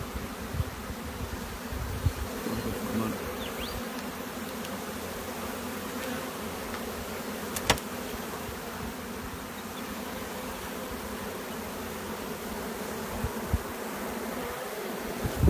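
Honey bees swarm around an open beehive during the setup of a new nucleus colony, giving a steady, dense buzzing drone that stays loud throughout, with a few brief knocks and rustles and no talking.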